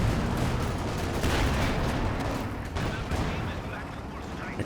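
A walking Stuka rocket artillery barrage in Company of Heroes 2, a dense rumble of distant blasts and gunfire rolling continuously, with a voice talking over it.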